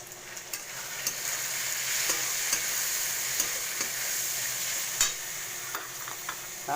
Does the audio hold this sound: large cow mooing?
no